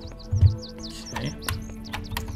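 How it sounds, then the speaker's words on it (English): Bird chirps and tweets in the fantasy shooter game Amid Evil, a series of short whistled calls repeating through the clip over a low ambient game backdrop. "I like the bird sounds too."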